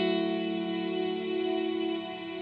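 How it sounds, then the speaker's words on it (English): An electric guitar runs through a reverb pedal on its bloom setting, holding one steady, shimmering tone that swells and sustains, slightly wavering, close and fairly loud. "You can tell how the reverb just sort of ramps up a whole lot."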